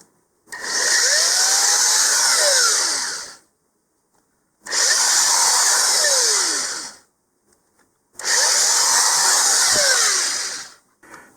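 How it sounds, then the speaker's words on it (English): A power drill runs in three long bursts of about three seconds each, drilling into a 2-inch model rocket body, high whining and grinding, separated by short silences. "we're just going to drill down through here."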